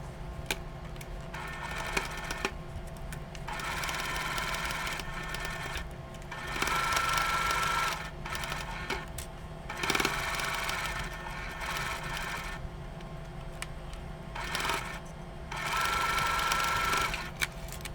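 A sewing machine stitches a quarter-inch seam on a Christmas star quilt block in several close, steady bursts of whirring, separated by short pauses with light clicks.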